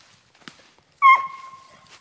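A walker coonhound pup gives a single short, high bark after a faint earlier yip, with quiet background otherwise.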